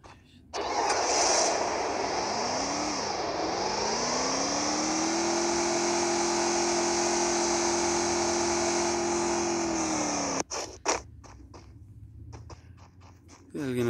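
Car engine in an online battle-royale shooter game, a steady loud drone with a rising rev near the start, running continuously for about ten seconds before cutting out into brief clatters.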